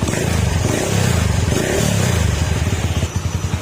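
A Honda TMX155 motorcycle engine idles while warming up, its exhaust misfiring and popping, with a close, loud, steady low throb that breaks into irregular pulsing knocks near the end.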